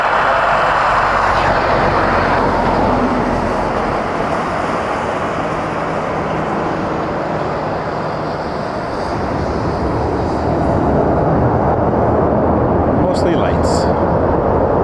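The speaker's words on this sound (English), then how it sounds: "There is a 7878 Dreamliner." Boeing 787-8 Dreamliner airliner at Toronto Pearson Airport, a loud broad engine rumble that swells and eases slightly while a person talks over it.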